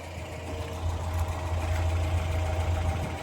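A Ford Fiesta's 1.1-litre overhead valve engine idles steadily with a low, even rumble and faint mechanical ticking, close by and continuous.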